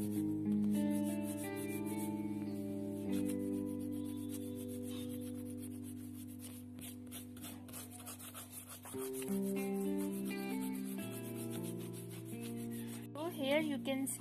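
Eraser rubbing out a pencil drawing on paper, with a soft, continuous scrubbing heard faintly beneath background music.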